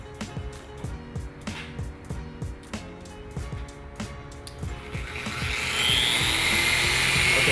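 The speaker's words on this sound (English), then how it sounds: "you put it at half speed, and at half speed you literally just work in the wax into the paint" Orbital polisher at half speed working wax into the paint of a BMW F80 M3, a close whirring buzz that pulses in repeated short strokes, then settles into a louder continuous hiss toward the end.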